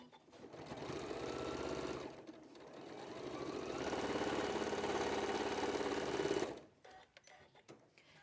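A sewing machine stitches a quilt stem piece along the joining edge in a steady, close mechanical whir. It slows briefly near the two-second mark, then runs on before stopping abruptly.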